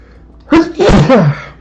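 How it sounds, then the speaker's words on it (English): One loud, close human sneeze bursts out with a quick sharp intake followed by a voiced, trailing expulsion, standing alone against a quiet background. "Yo le voy a tener que meter un estornudito más"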